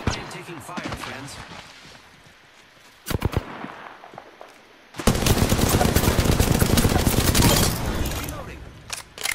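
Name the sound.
gunfire in the video game Apex Legends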